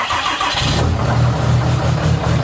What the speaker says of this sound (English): Cold start. That's a cold start, fellas.